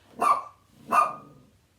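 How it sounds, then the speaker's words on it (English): A new puppy gives two sharp, loud barks about two thirds of a second apart, close by, with no talking. "she's a barker like Basil, so I may have to pause a couple times"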